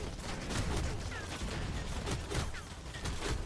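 The plague weapon in the Spacelords video game fires in rapid, rattling bursts of crackling shots mixed with busy game effects, dense and continuous at moderate loudness throughout.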